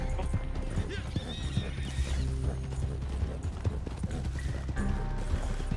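A horse in a video game gallops with steady clip-clopping hooves and lets out whinnies, with game clatter and players talking over it.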